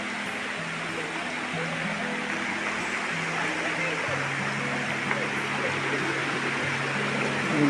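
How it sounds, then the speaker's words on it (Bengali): A waterfall pours beneath a living root bridge in Meghalaya, giving a steady, broad rushing roar that holds at an even level throughout, with a faint low hum underneath. "এই যে এখানে ঝর্ণা,"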